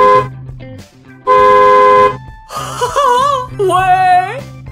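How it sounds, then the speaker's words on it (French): Bus horn honking, a pair of sustained tonal blasts near the start, followed by excited vocal wails and exclamations close by, loud and overlapping. "C'est le klaxon du bus!"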